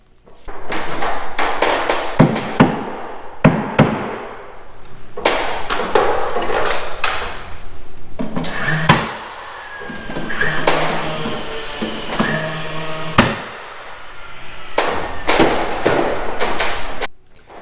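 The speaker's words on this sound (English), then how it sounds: "I'm just going to put two 18 gauge brads in this to hold it in place" An 18-gauge brad nailer drives brads into a coffered ceiling beam, sharp pneumatic pops and thuds repeating irregularly close by over a steady hissing background.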